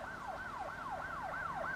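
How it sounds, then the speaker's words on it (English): Police siren sound effect, a wailing tone sweeping up and down about once every 0.4 seconds, fairly faint and heard alone. "do you hear those sirens"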